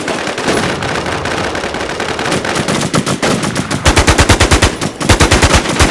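Sustained automatic gunfire in the survival shooter Infestation, loud and close, with rapid bursts rolling into a steady rhythmic stream of shots.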